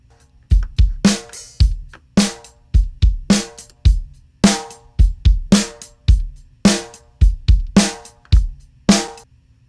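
A drum mix for a rock song with parallel-compressed kick and snare, punchy kicks and bright snare cracks in a steady rock groove, loud and close, drums alone.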